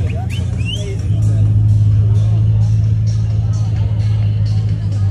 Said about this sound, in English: Beautiful Ferrari Daytona SP3 coming up the street.